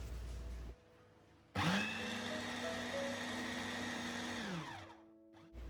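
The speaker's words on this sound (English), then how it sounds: "put the beef in the food processor or blender, you can turn it on and off every 15 seconds" A small food processor or blender grinds beef, running in a loud steady whir for a few seconds between short pauses, close and alone.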